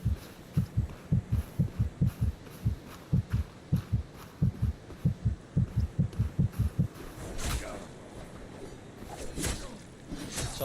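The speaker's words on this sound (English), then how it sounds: "That's a heartbeat. Someone is nearby in stealth." A steady game heartbeat in Mistfall Hunter warning of a stealthed enemy nearby, with soft paired low thumps in an even rhythm that stop partway through, followed by faint rustling ambience.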